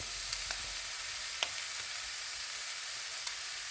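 Chopped vegetables, including grated carrot and mushrooms, sizzle in a pan for spaghetti bolognese, making a steady soft hiss with a few light clicks from stirring, with no talk over it.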